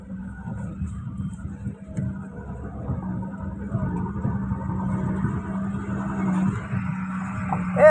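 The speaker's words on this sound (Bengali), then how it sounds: "ট্রাক চলে, গাড়ি চলে।" Trucks and cars drive along a busy Dhaka street, a steady low engine rumble at moderate distance that slowly swells.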